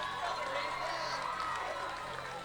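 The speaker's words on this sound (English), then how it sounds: "let's have another big round of applause for the C Team Wolverine cheer" Crowd applause and cheering for the C Team Wolverine cheerleaders at a high school football game, a steady dense wash of clapping from a large crowd throughout, fairly distant.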